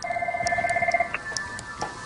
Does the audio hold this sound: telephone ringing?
yes